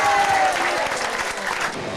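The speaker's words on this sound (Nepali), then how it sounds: "यो ताली बजाएर" A church congregation applauds at a Nepali healing prayer conference, a dense, steady wash of clapping that fills the space, with faint voices mixed in.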